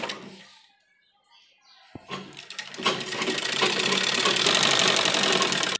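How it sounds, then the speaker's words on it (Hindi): A sewing machine stitching a baby frock starts after a near-silent pause with a brief clatter. It then runs steadily as a fast, dense mechanical whirr that grows louder toward the end. "अब देखिए एक साइड हमने इसमें सिलाई लगा दिया"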